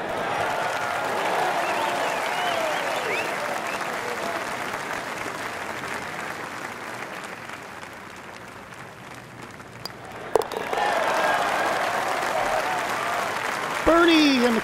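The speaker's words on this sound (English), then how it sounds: "And the crowd goes wild." Crowd in a golf video game applauding and cheering after a birdie, a sustained roar of clapping that dips midway then swells again, with a voice speaking over it.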